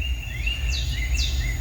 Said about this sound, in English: And back to the lively forest.